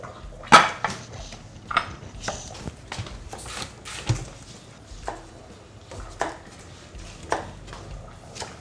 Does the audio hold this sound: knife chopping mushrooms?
yes